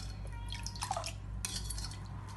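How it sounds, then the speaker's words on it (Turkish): A spoon stirs homemade wisteria flower syrup in a pot, giving a few soft clinks and liquid swishes over a steady low background hum. "Bu şekilde karıştırıyoruz."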